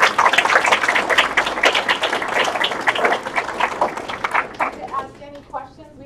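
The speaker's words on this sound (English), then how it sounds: "let's first just give him a hand of applause." Audience applause at a live-streamed lecture by a speaker: a room full of lively, dense clapping for several seconds, fading out as a voice starts speaking.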